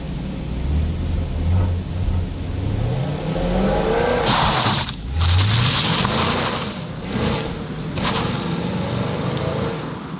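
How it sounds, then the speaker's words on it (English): A 2020 Chevrolet Camaro SS accelerates hard in an outside view of an acceleration test, its engine rising in pitch through several gear changes, loud and continuous with brief dips between shifts. "here is that acceleration test, a quick view from outside of the Camaro"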